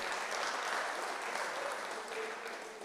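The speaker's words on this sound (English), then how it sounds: "A round of applause for the panel again." An audience at a town hall meeting applauds the panel, a steady wash of clapping that tapers slightly toward the end, heard at a moderate distance.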